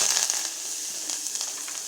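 Garlic, onion and green chilli frying in a pan with oil, giving a steady loud sizzle and crackle throughout with no talking.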